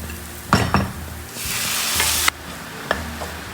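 Chopped tomatoes sautéing in a pan for egg chukka give a steady sizzle, with a few louder stirring scrapes and clatters near the start and a brighter frying hiss swelling in the middle.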